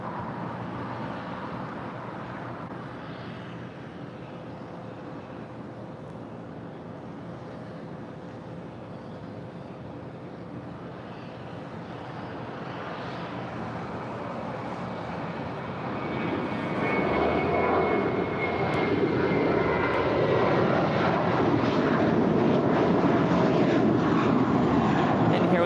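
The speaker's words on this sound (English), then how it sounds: "that is flight 601 coming in from Amsterdam with KLM on a 787-10" KLM Boeing 787-10 Dreamliner jet airliner on arrival at LAX, its engine roar building steadily from a distant whine to a louder, closer rush of jet noise over about twenty-five seconds.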